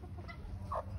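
Soft clucking from chickens nearby, a few short low murmurs and one brighter cluck over a quiet background hum.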